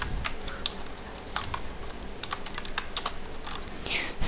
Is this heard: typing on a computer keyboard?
yes